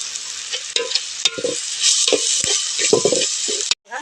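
Potatoes for vada pav sizzle loudly in a pan while a spoon stirs and scrapes through them in repeated strokes, close up and with no voices.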